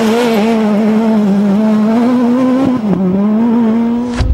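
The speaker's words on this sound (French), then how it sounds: "sur un long virage gauche en 6ème, Guy Wilkes va sortir de piste." A rally car at speed during Rally Sardinia 2010 holds a loud, steady engine note in sixth gear through a long left-hand bend, then a brief dip and a sudden crunch as it leaves the track.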